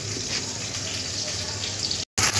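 Tap water running steadily into a container of dried red chillies, a tomato and ginger before grinding into paste, a continuous close wash of flow that cuts off briefly near the end.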